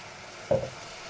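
Spice paste in a pan of Carolina Reaper chilli curry gives one short, sharp sizzle as water goes in and is stirred, over a steady low hiss of frying.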